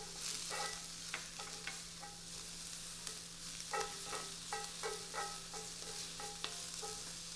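Mushrooms frying in butter in a pan, stirred with repeated clattering utensil scrapes in irregular bursts over a quiet, steady sizzle, near and without voices.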